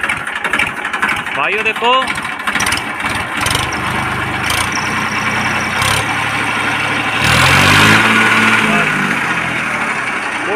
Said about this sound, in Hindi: मैस्सी की आवाज़